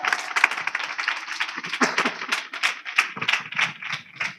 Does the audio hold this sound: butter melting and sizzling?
no